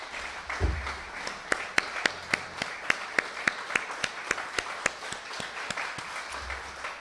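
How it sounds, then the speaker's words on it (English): A small audience claps for a couple asked to stand at a community gathering, the claps sparse and evenly spaced, moderately distant in a quiet room with low rumbles at the start and end. "I'd like you to give them a rounding applause as we ask them to stand up."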